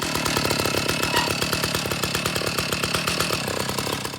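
An old Stihl 056 chainsaw mounted on a homemade Alaskan chainsaw mill runs at steady high revs, a loud, close, rapid buzzing throb that holds continuously and eases slightly at the end.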